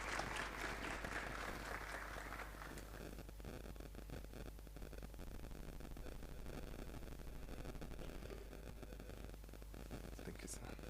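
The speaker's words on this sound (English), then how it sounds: "Let's give him a round of applause." Audience applause welcoming a speaker at a student debating event, strongest in the first few seconds then thinning into a steady hiss and hum, faint and distant.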